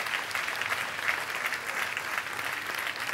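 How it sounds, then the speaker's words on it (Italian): Audience applause at the finale of a fashion show, a steady, even wash of clapping from a large crowd throughout. "un grande applauso."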